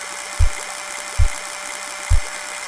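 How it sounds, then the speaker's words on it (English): Computer whirring with three evenly spaced low thumps pulsing through a steady mechanical hum, each thump a brief, loud burst roughly every 0.8 seconds. "He did something that caused the computer to stop for a second before making whirring sounds."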